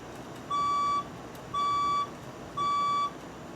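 A building fire alarm sounds during a test, giving three evenly spaced long electronic beeps, each about half a second, clear and steady over faint background hum.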